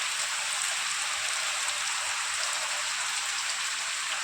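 Heavy rain pours steadily in a village, a dense bright hiss of drops hammering a surface without letup, loud and close.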